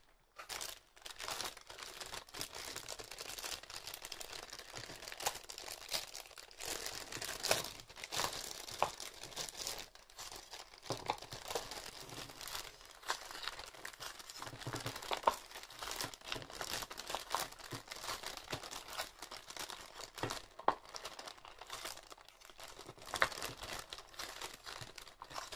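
Papier d'Arménie incense paper is crumpled and torn close up, a continuous dry crinkling and crackling that runs the whole stretch with no voices.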